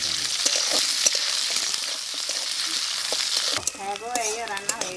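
Onions hit hot oil spiced with garam masala, cumin and bay leaf for a duck and bottle gourd curry, giving a loud steady sizzle that drops quieter near the end as a voice-like sound comes in.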